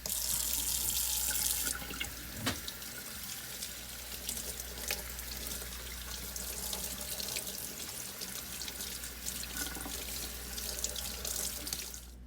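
Tap water streams steadily into a kitchen sink, rinsing brine off a piece of corned beef, a close continuous splashing rush with small shifts in the flow and no talking.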